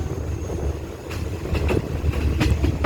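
Rapid train 168 rolls into Thungsong junction station in southern Thailand, a steady low rumble of wheels and carriages with sharp rhythmic clacks and brief squeals building near the end.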